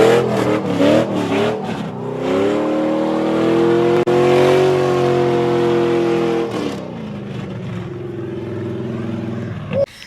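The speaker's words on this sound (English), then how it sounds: "I took it around the block and did a burnout" Car with open headers revving hard during a burnout around the block, a loud engine climbing in pitch, holding a sustained high roar, then dropping back to a rough idle-like rumble before a final sharp burst.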